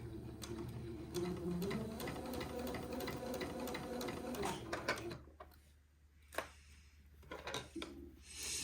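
A sewing machine runs steadily while sewing a French seam, a close continuous whirr for about five seconds, then stops, leaving a few clicks and soft handling noises before a brief restart.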